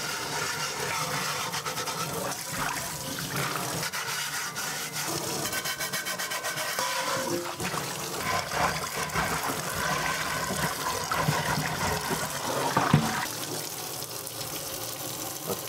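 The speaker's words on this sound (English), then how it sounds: "You always clean them with this like chainmail or something like this, flatter chainmail." A pan is scrubbed with a flat chainmail scrubber under hot running tap water: continuous rasping, scraping strokes over a steady rush of water, close and fairly loud, with no talking.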